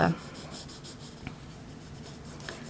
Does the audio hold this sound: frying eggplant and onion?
no